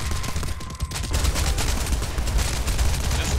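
Rapid bursts of Tommy gun fire from the video game Tower Unite, a dense, loud rattle of repeated shots running steadily for several seconds with no pauses.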